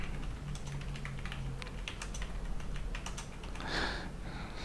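Quick, irregular keystrokes on a computer keyboard, a steady patter of light clicks heard close over a low background hum, with no talk.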